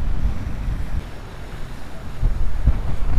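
Wind blowing across a lake during fly fishing, a steady rushing buffet on the microphone with gusts swelling toward the end, close and loud, no talk.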